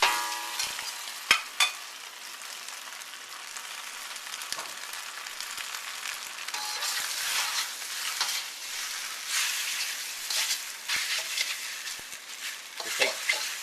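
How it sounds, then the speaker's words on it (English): Rice noodles fry in a smoking hot oiled wok, a close, loud continuous sizzle broken by sharp clacks and scraping strokes of stirring, with bursts that swell and fade throughout. "you can see I'm swirling some oil around the wok that's smoking hot, and I'm going to put my noodles in there"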